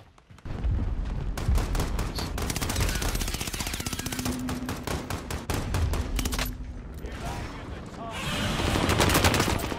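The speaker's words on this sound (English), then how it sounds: "I go to that anti-tank gun and try and kill the guy." Rapid gunfire from an anti-tank gun in the video game Call of Duty Warzone, a long loud run of closely spaced shots with short pauses, continuing for most of the stretch.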